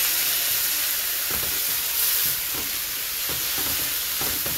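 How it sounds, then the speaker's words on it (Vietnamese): Tomatoes and spices stir-fry in a hot pan for a Thai hotpot, giving a loud continuous sizzle and hiss with a few soft scraping stirs and no talking. "Xào lên cho nó thấm"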